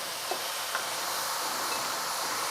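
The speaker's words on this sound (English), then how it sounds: "Can you hear that oil?" Breaded pork tenderloin pieces fry in hot oil with a continuous hissing sizzle and a few faint pops, steady and close, with no talking.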